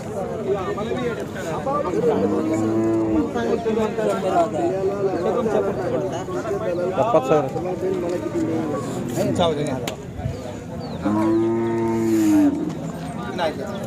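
Two long, deep moos from Khillar cows ring out over a busy crowd talking loudly at the Sangola cattle market, one early and one near the end.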